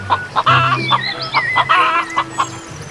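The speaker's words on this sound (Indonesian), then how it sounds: "Wih, hewan yang suka berkokok." A rooster calls loudly and close by in a quick series of sharp clucks and crowing bursts, with bright tonal notes woven between the calls.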